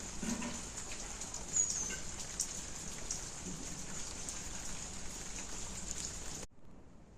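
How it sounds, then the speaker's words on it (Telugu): Light drizzle falling in a continuous soft hiss with scattered drips, cutting off abruptly to near silence at the end. "మా ఇంటి దగ్గర వర్షం పడుతుంది, అంటే జల్లు పడుతుంది సన్నతోర"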